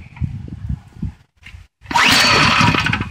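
A 212cc Predator small engine on a log splitter chugs just above idle in low, uneven thumps. After a short gap it breaks into a loud, harsh, sustained roar up close.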